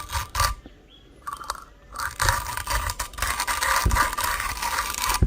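Coffee beans crunch and grind inside a 1Zpresso JE Plus manual hand grinder set to its finest setting, giving a close, harsh scraping roar that pauses briefly and then continues steadily.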